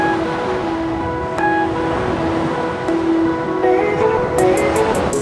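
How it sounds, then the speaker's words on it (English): Ocean waves wash steadily onto a beach in the evening, a continuous broad roar of surf close by with gentle swells and a few faint high clicks near the end, no talk. "A little bit of waves today."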